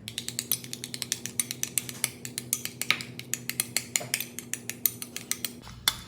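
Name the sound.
stirring sweet chili seafood sauce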